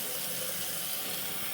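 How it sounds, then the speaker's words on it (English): Water from a tap runs in a steady, close hiss while a Barbie doll's hair is washed, short and unbroken, with no voices. "Whoops, sorry Demetra, I splashed your face there."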